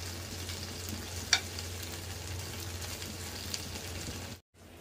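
Tandoori chicken fries in a shallow pan, a steady close sizzle with a single sharp tap partway through before cutting off abruptly near the end.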